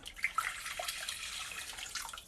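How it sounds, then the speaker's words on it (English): Hot boiling water is poured from a kettle into a container for cupcake batter, giving a steady, soft splashing stream for a couple of seconds. "So again, we're just going to get the hot boiling water. Pour this in."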